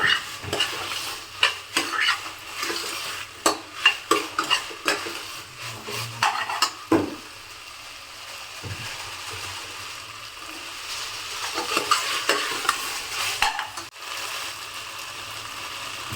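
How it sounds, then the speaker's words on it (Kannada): Green gram frying in a pan for pulao, stirred repeatedly with a ladle that scrapes and knocks against the metal, under a light continuous sizzle; the stirring thins out midway and then picks up again. "ಹೆಸರು ಕಾಳನ್ನ ಹಾಕೊಂಡು ಫ್ರೈ ಮಾಡೋಣ ಚೆನ್ನಾಗಿ"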